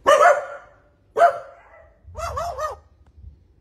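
Raven imitating a dog's bark, giving two sharp, loud bark-like calls followed by a quicker run of three yelping notes, close and clear with no talk.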